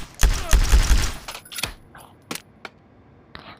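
Pistol shots in a VR combat game fire in a quick cluster of sharp cracks, followed by a few lighter metallic clicks and clacks from handling the gun.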